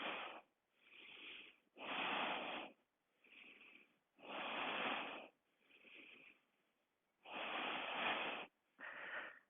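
Breathing during a yoga pose: slow, audible breaths in roughly eight separate bursts with quiet gaps between them, airy and close, with no talk.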